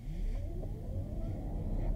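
A 2022 Peugeot e-2008 electric car accelerates from a standstill, its low motor hum climbing steadily in pitch over a constant rumble of road and cabin noise.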